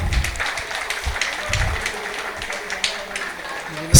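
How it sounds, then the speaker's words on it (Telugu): An audience claps at an anniversary gathering in a hall, a dense patter of many hands that starts strongly and then thins, with voices murmuring underneath. "శివ గారికి ఒక్కసారి గట్టిగా క్లాప్స్ కొట్టుకుందాం"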